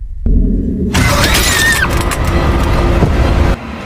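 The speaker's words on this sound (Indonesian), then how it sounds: "tiba-tiba mobil tim mogok di tengah perjalanan" A car in a horror film scene cranks and runs roughly, with a loud engine surge, clattering and a sharp bright tone before the sound cuts out abruptly near the end, suggesting a stall mid-journey.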